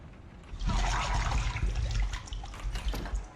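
A water jet gushes in a Fortnite horror game map, a loud rushing, splashing stream that starts after a brief quiet moment and runs steadily to the end.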